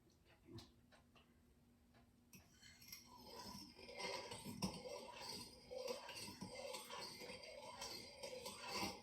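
Eggs scrambled and stirred in a warm pan with broth added, a utensil giving soft, scattered clinks and scrapes against the pan under a steady low wash of cooking noise; faint overall.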